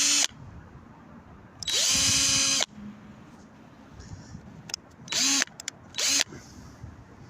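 A power drill whirs loudly in several bursts while drilling holes for moped winter muffs: one long run of about a second, then shorter spurts, with quiet gaps between them.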